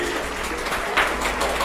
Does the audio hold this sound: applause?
yes